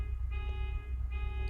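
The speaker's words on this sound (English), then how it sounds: "There's that alarm again." A car alarm sounds outside in steady, repeating electronic tones, fairly faint and distant, with two pulses of a higher tone rising over a constant hum.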